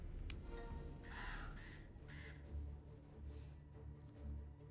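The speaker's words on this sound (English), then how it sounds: "Zap the crows by clicking them." Crows caw several times in a video game, harsh calls rising in short bursts over a steady low rumble of game background noise.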